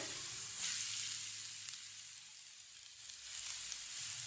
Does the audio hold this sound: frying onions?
yes